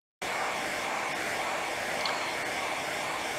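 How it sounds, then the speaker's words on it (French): A hair dryer switches on abruptly and runs at full power, a loud, steady, close airy whoosh with an even motor hum that holds constant for several seconds. "Voici le bruit d'un sèche-cheveux."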